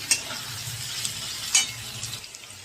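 Potatoes fry in a pan of oil as an egg chow mein is prepared, giving a steady close sizzle with brief stirring scrapes, low-level throughout, no talking.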